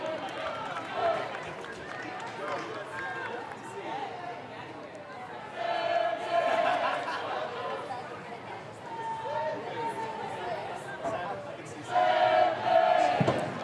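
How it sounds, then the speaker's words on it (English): A stadium crowd at an A-League football match between Sydney FC and Adelaide United roars and chants in support of Sydney. The steady mass of voices swells in louder bursts under continuous commentary. "And again, the crowd in full voice here, supporting Sydney."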